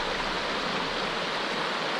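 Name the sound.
Oak Creek stream flowing beside the road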